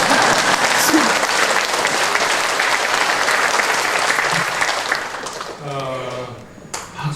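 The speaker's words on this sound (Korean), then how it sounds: "몇 번 박수면 7번" A church congregation applauds during a relocation worship service, dense clapping that fades as a speaking voice comes in near the end; the seven individual claps are not distinct.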